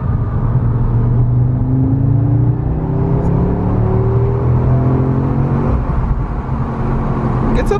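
An Audi S3 8Y pulls hard under full throttle, its loud engine note climbing steadily in pitch through a gear, close and continuous from start to finish.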